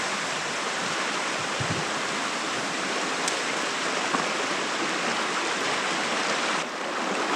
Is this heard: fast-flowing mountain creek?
yes